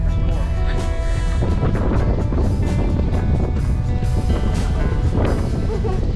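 Steady low rumble of a ship's engine with wind buffeting, a constant noisy drone throughout, with faint voices now and then.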